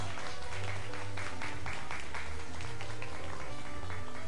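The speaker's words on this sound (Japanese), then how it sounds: "出場者の皆さんに改めて大きな拍手をお願いします。" Audience applauding contestants at a youth performing-arts contest preliminary stage, steady sustained clapping from a hall crowd, moderately loud with a low hum underneath.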